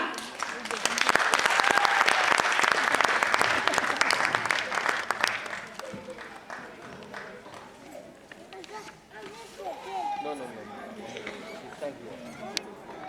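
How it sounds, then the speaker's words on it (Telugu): A crowd at an Ugadi celebration applauds loudly to welcome folk dancers, with dense clapping for several seconds that fades into murmuring chatter and nearby voices. "మరి వాళ్ళందరినీ చప్పట్లతో ఆహ్వానిద్దామా?"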